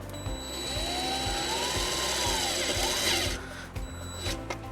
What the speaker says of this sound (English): Now we're going to take our provided self-tapping screw and ground the white wire to the frame.